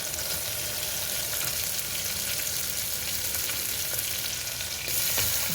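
A medium onion, sliced lengthwise, fries in oil with lightly browned garlic and curry leaves for a bottle gourd dal, giving a steady, dense sizzle that stays even throughout and swells slightly at the end.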